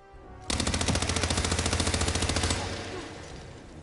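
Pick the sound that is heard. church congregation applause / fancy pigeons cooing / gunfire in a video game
gunfire in a video game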